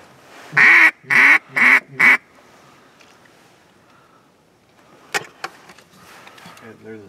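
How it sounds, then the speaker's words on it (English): Four loud, evenly spaced honking calls up close from white ducks, followed by a quieter stretch with scattered clicks and faint calls of waterfowl. "those are all white colored ducks."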